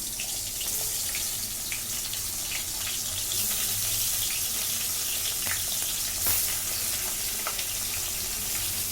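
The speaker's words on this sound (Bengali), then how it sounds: "তেল গরম হয়ে গেছে, এবারে আমি মাছের মাথাগুলো একটা একটা করে দিয়ে দিচ্ছি।" Fish heads frying in hot oil, a dense, steady crackling sizzle heard close up, with scattered sharper pops and spatters throughout, no voices.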